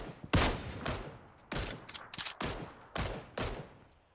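Bursts of gunfire in the battle royale game PUBG, about eight sharp, loud shots spaced roughly half a second apart in short clusters, heard alone without talk.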